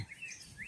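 Short high chirping bird calls at a zoo, a few rising whistles close by, with a low background murmur.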